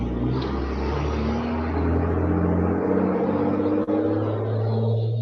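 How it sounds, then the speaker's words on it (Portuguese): A truck passes by outside, its heavy engine rumble swelling and then slowly fading away, loud and low with no voices over it. "Mais um caminhão."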